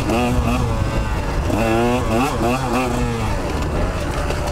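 A KTM 125 XC two-stroke dirt bike engine on a trail, its buzzing note rising and falling as gears shift, with a voice talking over it.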